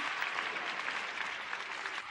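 A church congregation applauds during a worship service, a steady wash of many hands clapping that holds evenly for about two seconds at a moderate distance.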